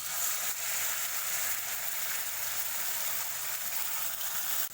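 Ground masala with Kashmiri chili sizzles in hot oil in a kadhai while making Maharashtrian misal, a steady, close hissing fry with no talk.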